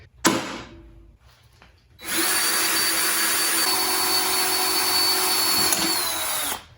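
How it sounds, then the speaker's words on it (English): Power drill boring a pin out of a go-kart part: a brief burst of whirring, then a steady, loud, continuous drilling whine for about four and a half seconds before it cuts off. "I just gotta drill the pin out."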